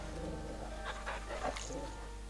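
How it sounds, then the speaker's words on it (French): A dog in the video game Final Fantasy XVI gives a few short, soft barks and whimpers over a steady game soundtrack hum, fairly faint and brief. "Bon chien."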